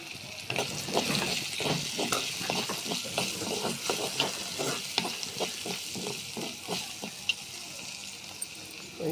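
Turmeric dropped into hot oil as a tempering for a chana dal and chicken fry, giving a steady close sizzle with repeated stirring scrapes throughout.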